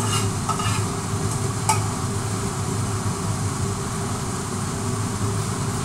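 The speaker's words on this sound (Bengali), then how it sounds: "ডালে এই যে ফোড়ন দিয়ে দিচ্ছি।" A spice tempering is poured into dal and sizzles loudly and steadily, a dense close hiss with a few faint clinks at the start and no voices.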